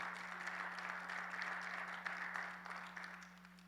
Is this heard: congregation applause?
yes